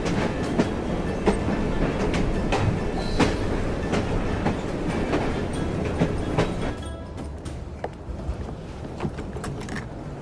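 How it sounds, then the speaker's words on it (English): A train in Assassin's Creed Syndicate, set in Victorian London, rumbles along with steady rolling noise and repeated clickety-clack wheel knocks on the rails, loud and continuous before easing slightly toward the end. "Oh well, at least we have a train now."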